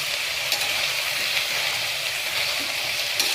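Vegetables including cauliflower sautéing in a pan for spinach vegetable pulao, a steady close hiss and sizzle with faint stirring clicks, no speech.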